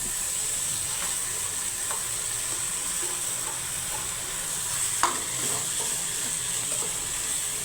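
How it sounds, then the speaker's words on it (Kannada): Sabudana mixture with turmeric is stirred in a hot pan, a constant close sizzle and hiss with occasional soft scrapes and clicks of the spoon, no talking. "ಇವಾಗ ಸಾಬೂದನಿ ಮಿಕ್ಸ್ ಮಾಡಬೇಕು."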